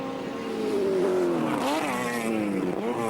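A Mazda touring car engine screams at high revs near 9,000 rpm at Surfers Paradise Raceway in 1983, its pitch sliding down and climbing again through gear changes, loud and close throughout.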